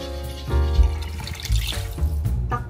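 Water pours into a cooking pot holding frying chicken and garlic, splashing and gurgling in uneven close bursts over a few seconds.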